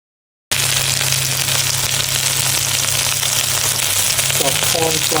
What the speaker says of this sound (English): So corn flour with some chicken, and I'm just frying this up.